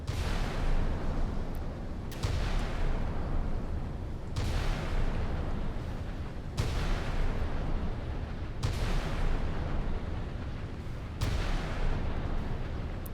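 Heavy naval guns aboard a 1990s warship in the Sea Power naval combat game fire in a steady series of deep booms roughly every two seconds, each blast rolling into a sustained rumble, loud and close, with no voices.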